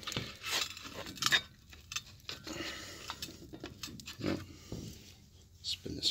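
Drop biscuits turned in a metal pan over a dual burner rocket stove, giving irregular clinks, taps and scrapes of utensil on pan, with a few louder knocks scattered among them and talking running over the top.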